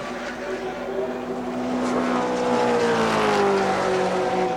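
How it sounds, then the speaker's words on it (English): Holden Commodore and BMW Group C touring cars race at Symmons Plains in 1984, their engines wailing loud and continuous with pitch sweeping up through the gears as they pass close together. "Braking duel, Holden Commodore, BMW"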